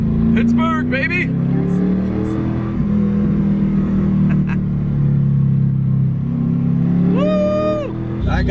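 Modified Pontiac Trans Am WS6 cruising on a highway near Pittsburgh at dawn, a steady low engine drone with road noise throughout, a couple of faint whooshes from passing traffic, and a few brief high tones rising over the hum.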